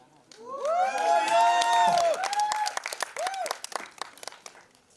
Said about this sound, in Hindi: एक बार जोरदार तालियां पारुल के लिए हमारी।